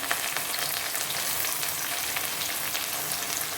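Onion, green chili and dried red chili fry in a pan after mustard seeds have popped, for rice upma; a dense, steady sizzle fills the whole stretch, loud and close, with no voices.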